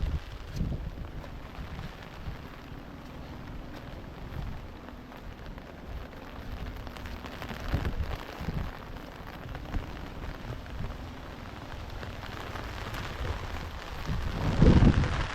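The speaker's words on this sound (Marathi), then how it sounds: "मित्रांनो जोरात पाऊस आला" Steady rain patters on a surface, a constant dense hiss with occasional louder thumps and light wind buffeting the microphone.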